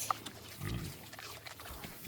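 Pigs born in October grunt in short, low snorts, with one longer rumbling grunt in the middle and a few softer snuffles around it, close by and fairly quiet.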